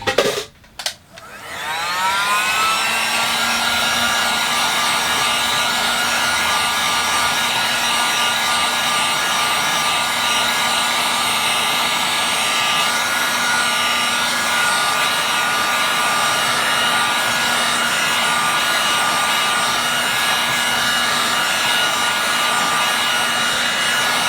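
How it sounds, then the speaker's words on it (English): A blow dryer runs continuously while drying the first glaze on an ink and wash painting, a loud steady whooshing roar with a whining tone that starts after a brief handling noise. "I'll use a blow dryer."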